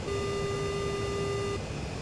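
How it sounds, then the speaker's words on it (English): An AJS-37 Viggen radar warning receiver in the DCS flight game signals a search radar with a single long, steady, deep electronic tone that holds for about a second and a half, then cuts off, leaving faint background hiss. "you can have a long signal, a pretty dark tone, deep tone, and it's a long, long pass between it. And that's a search radar."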